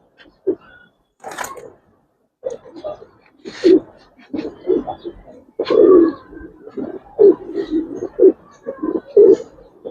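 Giribaz and coloring pigeons coo nearby in soft, throaty bursts mixed with low voices talking, the calls coming in irregular clusters through the clip.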